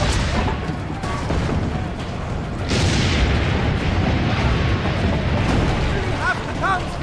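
In Assassin's Creed Brotherhood, a dense battle din of booming blasts and rolling gunfire fills the scene, loud and continuous, with a voice calling out over the chaos.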